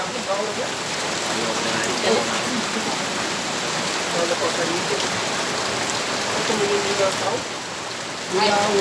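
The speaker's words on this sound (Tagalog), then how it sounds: "kusog yung uwan sa mga karon guys" Heavy rain pours down in a dense, constant hiss of drops drumming on surfaces, close and fairly loud, while people talk quietly beneath it.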